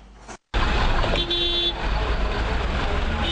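Road traffic in Nouakchott, a constant loud wash of engines and street noise with one sustained car horn toot partway through, following a brief cut to silence.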